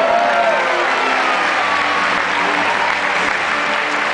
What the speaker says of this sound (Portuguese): Depois aplauso para a Sogra